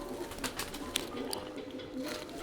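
An old white pigeon coos softly nearby, a few faint, short calls over a quiet background.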